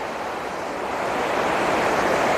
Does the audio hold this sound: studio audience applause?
no